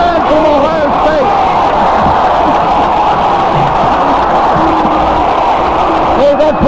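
A packed football stadium crowd roars loudly and continuously after a hard hit in a 1970 Michigan vs. Ohio State game, a dense wall of cheering and yelling with commentator voices mixed in.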